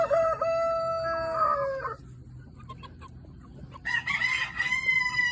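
Backyard chickens eating pinto beans, with loud, close crowing and drawn-out clucking calls from the flock, a pause in the middle, then another burst of overlapping calls.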